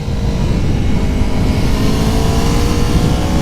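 A 2019 Aprilia Tuono Factory motorcycle engine roars loudly and steadily while riding, with wind rush over a constant high-revving drone.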